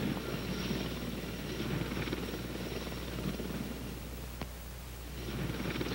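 CH-54 heavy-lift helicopter flying with a load slung on its hoist, a loud continuous rotor and turbine roar that holds steady throughout with a slight swell near the end.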